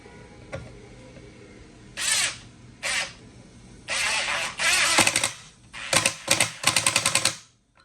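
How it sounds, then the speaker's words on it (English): A Ryobi 18V ONE+ HP brushless 1/4-inch impact driver on its lowest mode drives screws into a wooden board in short bursts, each with rapid rattling hammer clatter, close and loud with pauses between screws. "testing out the Ryobi 18-volt 1+ HP brushless 1/4-inch impact driver"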